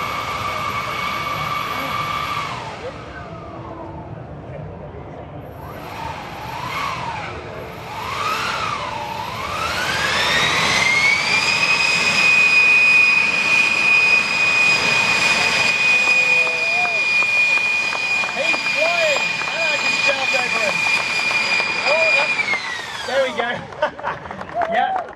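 Gravity Industries' prototype electric jet pack spools its motors up into a loud, sustained high-pitched whine that holds steady for about ten seconds, then winds down near the end, preceded by shorter rising bursts and background voices.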